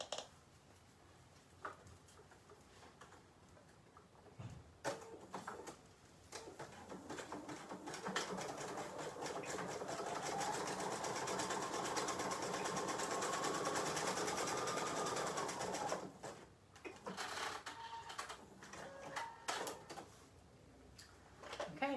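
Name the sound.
sewing machine sewing zigzag stitch on elastic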